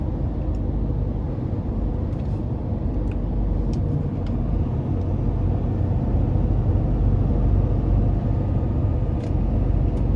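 Ford F-350 Limited Dually pickup truck with a 6.7L diesel engine, 2022 model, driving on the road; a steady low engine and road rumble holds throughout from inside the cab, with no talk.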